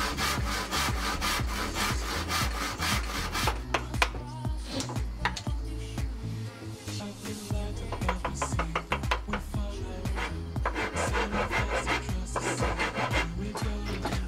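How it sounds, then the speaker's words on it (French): Hand sawing through small pieces of wood for a bathroom cabinet crossbar, close and loud, with quick rhythmic back-and-forth strokes that pause briefly and then resume. "Ensuite, je trace puis coupe des bouts enlevés pour que ma traverse rentre."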